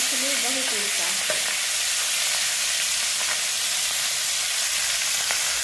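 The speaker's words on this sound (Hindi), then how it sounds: "फ्राई करते समय जो है ये मछली बहुत उड़ता है।" Fish frying in a pan gives a steady, loud sizzle and hiss throughout, with a brief scrape near the start as it is turned; no one speaks.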